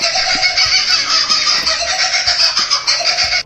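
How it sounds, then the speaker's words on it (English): Sped-up, edited call of a kookaburra, the Australian bird, heard as a loud continuous shrill chatter of rapid repeated squawks running for several seconds before cutting off abruptly, with no voices present. "It was really a sped up edited call of this Australian bird called a kookaburra"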